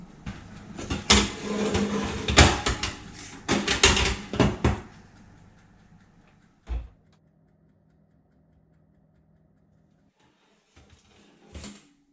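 Oven door shutting on a pan of potato pancakes under a creamy topping set into a cold oven: a single soft thud after rattling handling noise, then near silence with a faint later knock.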